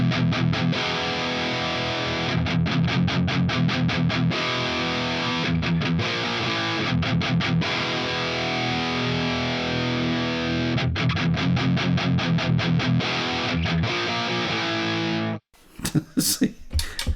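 An electric guitar plays through a Donner Arena 2000 multi-effects unit on a heavy distortion setting, giving a thick, grinding tone in sustained chords broken by short choppy stops. The playing ends abruptly, followed by a few brief bursts of noise.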